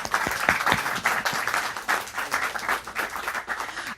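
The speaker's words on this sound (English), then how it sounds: "Big round of applause" An online webinar audience gives a speaker a round of applause, lighter and uneven clapping with distinct individual claps pulsing irregularly, fairly close and clear, with no speech over it.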